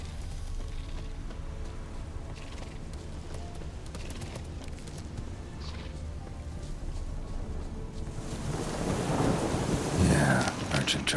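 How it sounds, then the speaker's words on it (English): A thunderstorm in The Witcher 3 video game: steady rain with low rumbling thunder that swells into a louder, closer roll toward the end, with no speech over it. "A storm, damn it."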